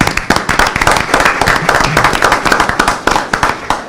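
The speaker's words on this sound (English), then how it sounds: "Let's give a round of applause for Mr. Patel." A round of applause at a city council meeting, a room full of people clapping hard and steadily with dense, sharp claps that hold for the whole stretch.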